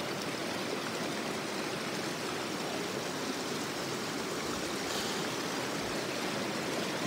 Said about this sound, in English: Got another river crossing here.